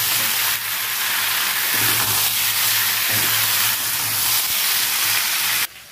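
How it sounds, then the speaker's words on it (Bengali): Potatoes fry with spice paste in a pan for Bengali alu bhaja, a loud, continuous close-up sizzle and hiss that holds steady throughout before cutting off abruptly at the end. "আলুর সাথে একসাথে ভালো করে ভেজে নেবো।"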